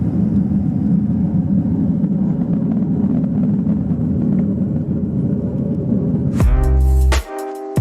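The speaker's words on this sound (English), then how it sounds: "going to get a real nice view of Flight of 4 of F-16s taking off to the west" A flight of four F-16 fighter jets takes off to the west, making a loud, sustained low roar and rumble that holds steady for several seconds before cutting abruptly to a different, tonal sound near the end.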